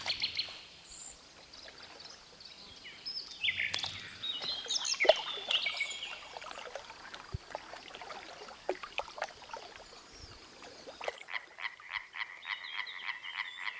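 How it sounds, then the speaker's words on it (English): Tree frogs croak in a steady pulsing chorus near water at night, joined by scattered bird chirps over a faint stream, the croaks growing denser and more rhythmic toward the end. "the little tree frogs abandon their solarium on the branches and dive into the water, looking for a potential mate."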